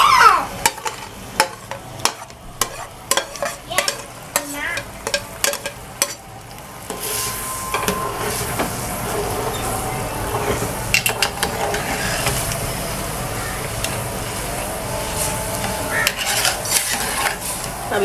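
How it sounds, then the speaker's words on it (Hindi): Tomato masala is stirred in a pan with a metal spoon, clinking and scraping in bursts at first, then giving way to a steady, close sizzle of frying that carries on to the end. "टमाटर गल चुके हैं, अभी इस मसाले को हम भून लेंगे।"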